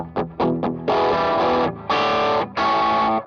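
Electric guitar played through a Green Rhino overdrive pedal, a Tube Screamer-style drive: three short choppy chords, then three long sustained distorted chords, loud and close with no voices.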